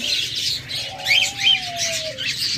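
A pair of lovebirds squawks and chirps in short, sharp, repeated bursts, close by and fairly loud against a faint background hum.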